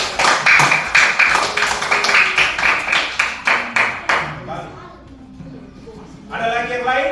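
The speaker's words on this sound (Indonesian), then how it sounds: "tepuk tangan dulu untuk Ali" Classroom of students clapping for a classmate: a run of sharp, rhythmic claps that fades out midway, followed by children's voices and talk.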